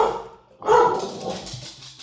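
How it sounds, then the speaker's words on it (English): A dog barks a few times in the background of a live-streamed coding session, fairly close and moderately loud, with some whimpering yips among the barks. "Now you've got a dog barking in the background."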